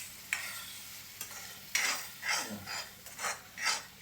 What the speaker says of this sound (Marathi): आपण आता कढीपत्ता टाकला.